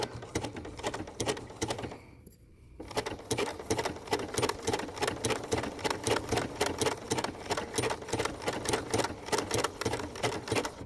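A Bernina sewing machine runs a blanket stitch on wool appliqué, its needle hammering in a fast, steady rhythm that stops briefly, then resumes and continues evenly at close range.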